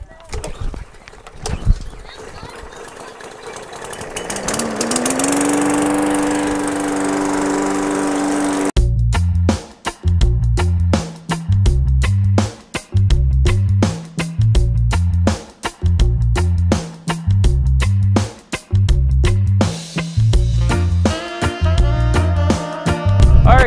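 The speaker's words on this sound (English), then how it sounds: "We're mowing some grass." A lawn mower cutting grass runs with a loud, steady engine drone that rises in pitch, then breaks into choppy, rhythmic bursts as it works across the lawn.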